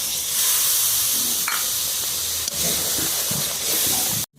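Water poured into a hot pan of butter prawns with sizzling butter erupts into a loud, continuous hissing sizzle with steamy bursts and crackles, cutting off abruptly at the end.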